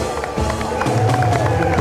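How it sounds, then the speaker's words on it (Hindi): A studio audience at a cricket talk show gives a standing ovation for Umar Sharif, with a dense wash of clapping and a few cheers and voices mixed into a loud, continuous roar. "बिल्कुल उमर भाई के लिए खड़े होकर तालियां।"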